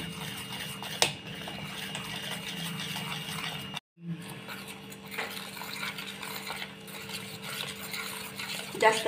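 Besan gram flour batter with rice flour, turmeric, chilli powder and salt being mixed by hand in a bowl, giving a steady, continuous soft stirring and scraping with a couple of brief knocks and no talking.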